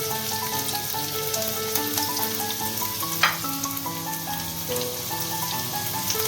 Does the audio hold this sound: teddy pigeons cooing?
no